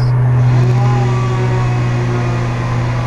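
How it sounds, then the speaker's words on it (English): A truck hauling away tree trimming debris on a Sunday afternoon, its engine a steady droning hum with a strong low tone, fairly loud and continuous throughout. "there's the truck that's hauling away all the debris from this"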